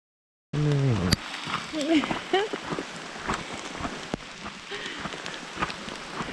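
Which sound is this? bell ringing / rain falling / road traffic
rain falling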